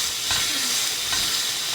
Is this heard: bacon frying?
yes